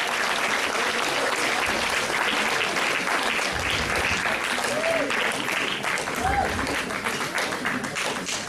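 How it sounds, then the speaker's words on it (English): Sustained applause from an audience at an alumni dinner and dance honoring teachers, a dense, even clapping that fills the room throughout. "Please give them all a round of big applause"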